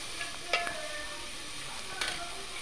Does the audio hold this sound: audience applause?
no